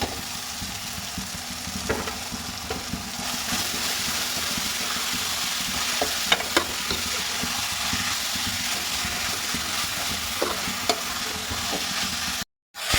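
Capsicum, cabbage and other vegetables fry and get stirred together in a pan, giving a steady close sizzle with scattered scraping clicks throughout, briefly cutting out near the end.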